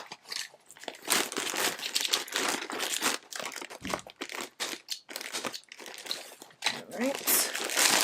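Plastic packaging around KnitPicks Comfy Fingering yarn is crinkled and cut open with snips, giving steady close crackling and crunching throughout. A voice is faintly present at times.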